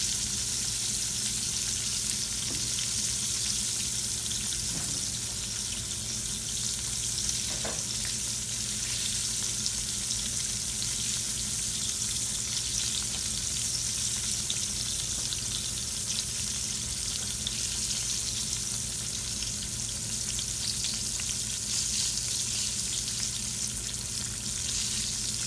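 Green tomato slices coated in flour fry in a pan with a steady, even sizzle that carries on without a break, close and moderately loud, with no one speaking.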